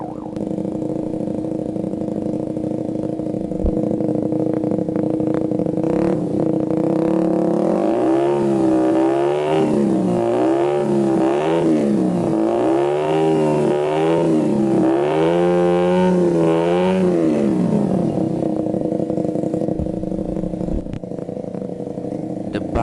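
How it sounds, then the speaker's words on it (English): A Suzuki GSX-R150 motorcycle fitted with an Akrapovic exhaust idles indoors, then revs repeatedly in quick rising and falling bursts through the middle before settling back to a steady idle; loud and close, with no talking. "Today I'm gonna show you my GSXR 150 with Akrapovic Exhaust."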